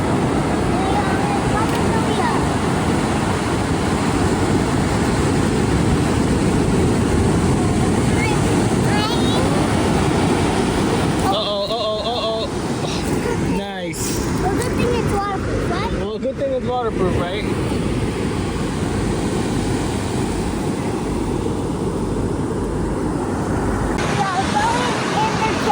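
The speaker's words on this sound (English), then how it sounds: "We're at the beach now." Waves and wind roll in at Carpinteria Beach as a loud, continuous wash of surf, with heavy wind buffeting the microphone and a brief dropout partway through.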